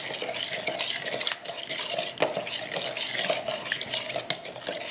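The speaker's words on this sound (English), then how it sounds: "Give it a good stir." Alum stirred into pigment water in a small container, producing a light continuous swishing and faint clinking against the sides, fairly close and steady, with no talking.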